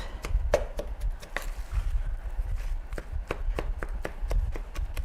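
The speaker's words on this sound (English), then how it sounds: "I'm also kind of chopping up some of the seed pods" A knife chops seed pods for a New Year's Day lunch dish in a steady run of sharp, close taps, regular and brisk, with no talking.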